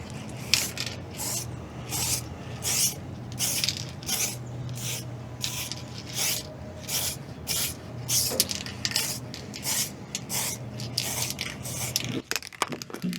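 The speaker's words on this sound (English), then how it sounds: "Next, I grab the clear coat, give it a good shake, and it's time to seal all this work in." A can of clear coat is shaken and sprayed over a painted Chevrolet C10 differential, heard as a regular series of short, sharp hissing bursts repeating evenly and close by, with no talking.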